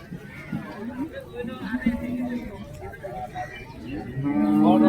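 Cattle at a rural village livestock market before Eid, with low lowing calls rising under ongoing nearby talk and crowd murmur, growing louder toward the end.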